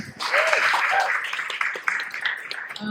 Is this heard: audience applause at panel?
yes